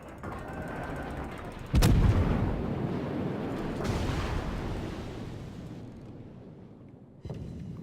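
Warship guns boom in a naval battle game aboard an American Tier 7 cruiser, New Orleans: a loud sharp blast followed by a long rumbling roar that fades, then a second report near the end.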